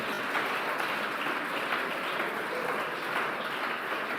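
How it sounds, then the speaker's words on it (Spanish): Sustained applause from a church congregation, a dense, even patter of clapping that holds steady throughout. "Fuerte ese aplauso para el que vive."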